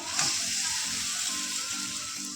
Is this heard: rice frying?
yes